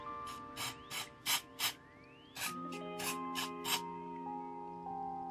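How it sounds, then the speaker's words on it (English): Short bursts of hair identifier spray hiss in several quick puffs, up close and fairly quiet, with faint tonal music lingering beneath. "The hair identifier spray is essentially like a powder to prep the skin before."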